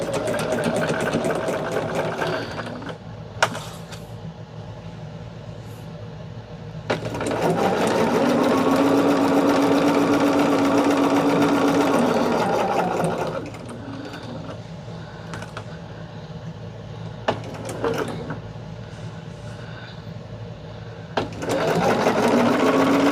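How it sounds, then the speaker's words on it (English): A sewing machine stitches the rows of a quilt block in long, steady runs of close, whirring stitching, separated by quieter pauses with handling clicks. "So now we're sewing the top and bottom rows."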